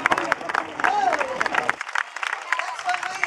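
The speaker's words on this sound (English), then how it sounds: "Let's give him a big round of applause." Crowd applause for a performing bear at Welde's Bear Show at the Kansas State Fair, a burst of scattered clapping from the audience with someone talking over it.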